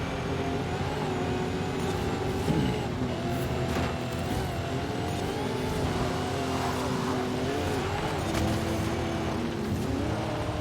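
Mini X-Raid racing car in Forza Horizon 5, engine revving and shifting steadily as it powers around corners, loud and continuous with brief tire noise.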